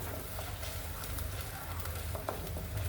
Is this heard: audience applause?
no